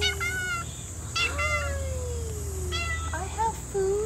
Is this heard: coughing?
no